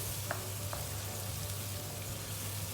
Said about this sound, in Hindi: इस मसाले को मैं थोड़ा सा भून के इसे कवर कर दूंगी